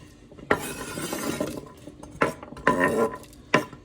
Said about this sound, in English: So we're just going to go ahead and add those carrots.